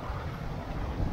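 Strong wind buffets the microphone outdoors beside water in the Carpathians during a fishing trip, a steady low roaring rush with no voices.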